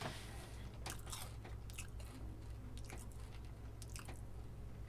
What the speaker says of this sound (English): You through chewing?